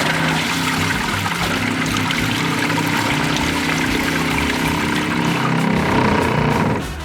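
Water pump in a Land Rover Defender overlander water system running as water flows from the tap, a steady rushing pour with a low mechanical hum underneath and a brief spoken remark near the start.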